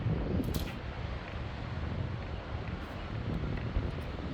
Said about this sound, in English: got a little wind behind me